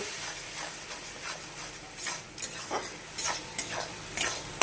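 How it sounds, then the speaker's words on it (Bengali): Spiced filling for stuffed pointed gourd being sautéed in a pan: a soft sizzle under repeated scraping and stirring strokes of a spatula, close and moderately loud, with no talk. "আর একটু এটা দেওয়ার পরে আমি একটু কষে নেব"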